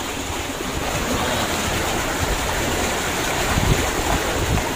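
Steady rush of flowing water current at a fish trap set for shrimp, crabs and prawns during flooding, a dense continuous wash heard close with no speech.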